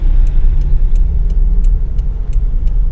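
A Toyota Land Cruiser jeep engine runs steadily after a clutch plate and pressure plate change, a loud, even idle rumble close by with a faint regular ticking on top.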